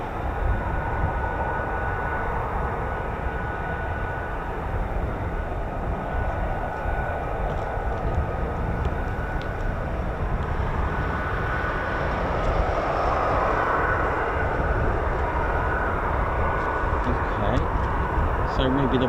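An F-35 Lightning stealth fighter taxiing past at an air base makes a steady, loud jet-engine roar and whine that holds throughout, with a person talking now and then over the engine noise.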